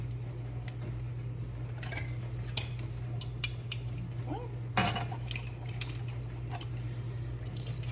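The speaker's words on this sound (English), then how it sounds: "use the Pampered Chef garlic press. This is an older one, but I'm going to use this to crush 4 cloves of garlic into this" An older Pampered Chef garlic press squeezes four garlic cloves in a quiet kitchen, giving soft squishing crunches and small metallic clicks and clinks at irregular moments over a steady low hum.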